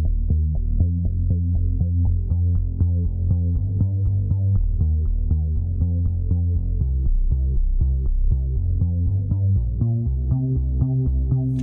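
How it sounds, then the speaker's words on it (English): Tone2 Electra synthesizer bass patch playing a steady run of repeated low notes while the filter cutoff is swept, so the brightness of the tone shifts over the course of the phrase. "Changing the cutoff frequency here, you can change the type of tone you obtain."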